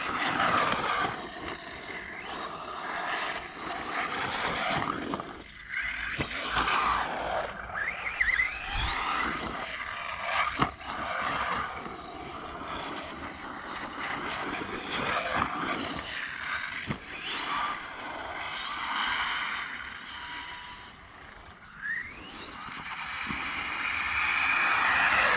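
Ming Yang Caracal 2200kv 4S RC car driving fast, a continuous high-pitched electric motor whine that rises and falls in pitch as it speeds along, fairly loud and steady without talk.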